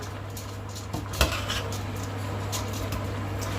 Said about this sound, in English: I'm just going to add in now my washed rice. I'm just going to mix this in